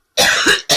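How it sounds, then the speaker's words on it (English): A person with a lingering cough of a couple of weeks gives two coughs: one long, rasping cough followed by a short sharp second cough, close and loud with no talk. "I'm so sorry about this cough."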